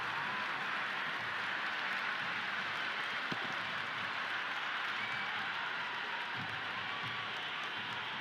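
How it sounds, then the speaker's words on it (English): Crowd noise in a Cricket 26 T20 match, India vs New Zealand, after a six: a steady, loud wash of stadium cheering and applause that holds evenly throughout with no voices standing out. "The crowd is electric right now."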